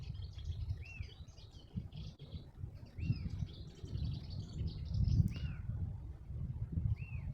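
A wild bird calls from a branch on a forested hillside trail near Bariloche, giving short, rising-falling whistled notes about every two seconds over steady low wind rumble and footsteps.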